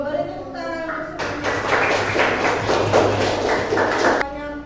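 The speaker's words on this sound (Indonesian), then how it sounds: "Beri tepuk tangan untuk" A burst of enthusiastic clapping from a group of children lasts about three seconds, with voices speaking before and after it.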